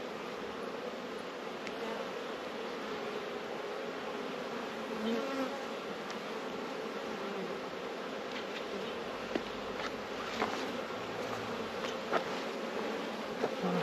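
Honey bees work over a honey-heavy hive frame during a late-February hive check, a dense, steady hum of buzzing wings close by, with occasional faint knocks and handling sounds and no talk.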